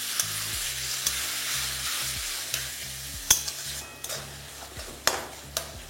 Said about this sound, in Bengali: দিয়ে দিন টমেটো কুচি। তারপর এটাকেও ভালো করে মিশিয়ে নিন